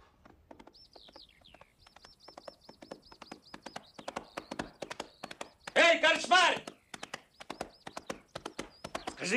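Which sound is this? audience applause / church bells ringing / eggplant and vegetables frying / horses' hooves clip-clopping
horses' hooves clip-clopping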